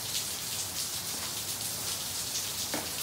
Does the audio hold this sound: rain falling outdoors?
yes